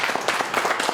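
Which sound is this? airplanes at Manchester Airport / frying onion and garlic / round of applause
round of applause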